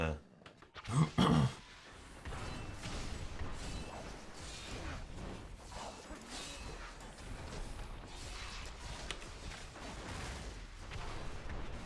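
Repeated explosions from spell effects in the action role-playing game Diablo 3 Reaper of Souls, played as a hardcore Wizard, with a loud burst of blasts at the start followed by a continuous dense wash of combat impacts and crackles.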